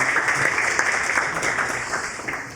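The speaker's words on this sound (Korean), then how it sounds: "큰 박수 부탁드립니다." An audience claps after a lecture at a garden policy forum, a dense, steady applause that holds at an even level and then slowly fades.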